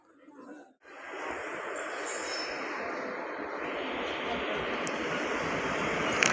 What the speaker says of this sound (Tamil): இந்த வண்டி தாங்க கன்னியாகுமரி திப்ருகாடுங்க. ஃபுல்லி அண்டர்சோட் எக்ஸ்பிரஸுங்க.